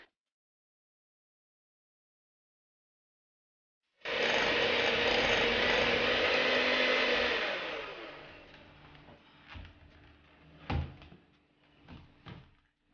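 An electric mixer beats margarine for butter biscuits, coming in suddenly after a few seconds of silence with a loud, steady whir that lasts about four seconds, then dropping to quieter, uneven rattling and bumps.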